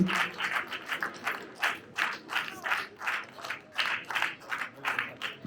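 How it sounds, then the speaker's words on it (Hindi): Audience applause for Jagdish ji at a film event, a moderate patter of clapping from a small crowd that swells and fades in rough waves. "जोरदार ताली हो जाए"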